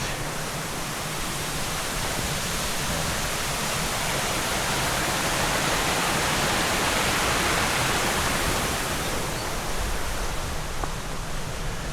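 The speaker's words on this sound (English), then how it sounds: "got running water coming down from the mountain here" Mountain water runs down a stream by a bridge leading to a torii gate near Nachi Taisha on the Kumano Kodo, a steady, full rushing wash that stays loud and unbroken throughout.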